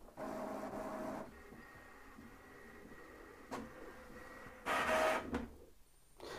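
An HP ENVY 5032 inkjet printer feeds and prints an alignment page: bursts of whirring motor and paper movement, with a mechanical clunk mid-way and a louder rush near the end, close by and without talk.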